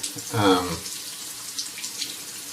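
A Rockwell 6C safety razor is rinsed under a running tap, with a short splashing gush of water near the start that quickly fades to quiet dripping and faint handling sounds.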